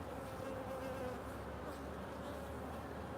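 Honeybees buzzing around an open hive during an inspection in a backyard apiary, a continuous dense drone of many wings, steady and close, with no talking.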